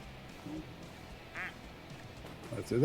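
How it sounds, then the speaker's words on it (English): Ducks quacking in a pool in a video game, a few short quacks scattered over quiet ambience, with a louder burst of quacking at the end. "See, this is a pool with a lot of ducks in it"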